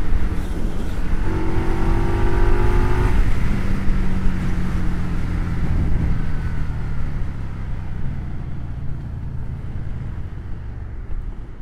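Indian Scout 101 motorcycle on a road ride, engine revving up to a rising whine that breaks off as a gear shifts, then settling into a steady, slightly fading drone.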